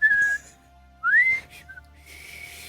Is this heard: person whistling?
yes